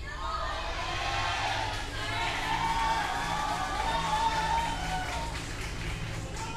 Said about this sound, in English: A lot of support for him here in the studio. I mean, huge cheering.